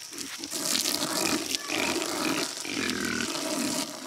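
Farm pigs grunting and squealing loudly at close range, a continuous rough chorus of overlapping calls with no talk.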